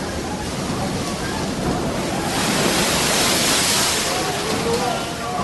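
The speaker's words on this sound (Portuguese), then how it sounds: "E as ondas batiam com força no barco, porque o vento soprava contra ele." Waves pounding hard against a boat in the middle of a lake while wind blows against it, a loud, continuous broadband wash that swells toward the middle.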